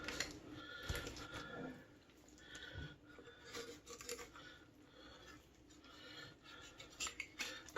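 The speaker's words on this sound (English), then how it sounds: "Cut through all that skin and set that aside." A sharp knife slices through raw turkey skin with close, scratchy cutting and scraping strokes, followed by small clicks and taps, with no one speaking.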